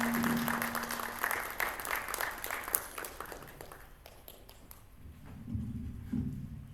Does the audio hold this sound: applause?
yes